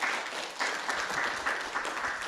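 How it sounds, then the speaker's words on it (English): Audience applause fills a conference hall at the close of a South China Sea panel session, a steady wash of many hands clapping at moderate volume with no voices over it. "Please join me in giving a round of applause to the group"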